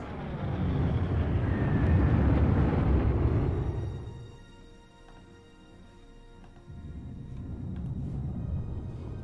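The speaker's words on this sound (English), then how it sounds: "More strafing runs." Aircraft on strafing runs in the World War II strategy game Panzer Corps, a loud broad engine roar and rumble that swells, dips midway, then builds again, with no voices.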